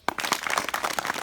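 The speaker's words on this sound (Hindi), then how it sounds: "ताली बजाओ" A group of children claps hands together in a burst of quick, uneven applause, close and lively, at an awareness session held at a cow shelter.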